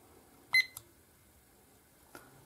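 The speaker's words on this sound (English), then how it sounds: "I bought myself a kitchen timer to time myself every time I record" A kitchen timer being switched on gives a short burst of bright electronic beeps, then a quick second chirp, and later one faint click-like beep in a quiet room.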